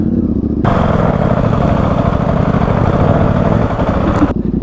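A KTM 690 Enduro R single-cylinder motorcycle revs hard and accelerates off-road, its loud, close engine roar rising steadily for about four seconds before dropping away.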